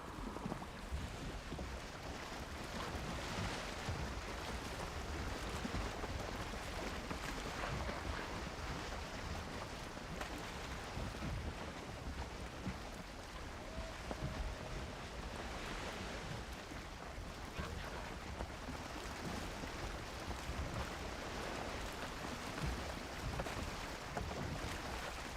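Makeshift boat pushed across open water in Valheim, a steady wash of wind and waves with rushing water noise, continuous and fairly even throughout.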